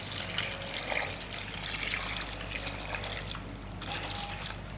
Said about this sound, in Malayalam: ഇനി നമുക്ക് ഇതിന് വേണ്ടുന്ന വെള്ളം ചേർത്ത് കൊടുക്കാം.